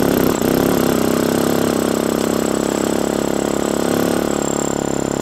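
A loud, steady motorcycle engine, freshly after heavy maintenance, runs close by at an even idle with a constant droning rumble and no voices.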